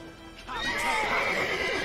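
Horse in The Witcher 3 video game neighing loudly with a long wavering whinny, close up, over faint hoof clip-clop and background game sounds.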